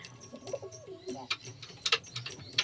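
Pet pigeons being fed in a rooftop loft, giving soft, repeated throaty coos from close by, mixed with small chirps and clicks and faint background noise.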